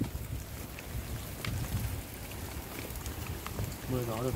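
Steady rain patters on the surface with gusting wind buffeting the microphone while fishing from a boat, a constant near wash of noise with a few brief voices near the end.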